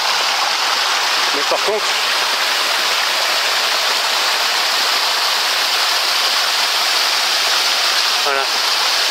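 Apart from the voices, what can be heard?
mountain river flowing over rock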